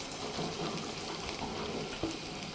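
Chicken liver and gizzard masala frying in a pan, a steady dense sizzle with light stirring scrapes throughout.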